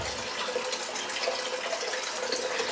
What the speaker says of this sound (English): Right, let's get a bit of water on here.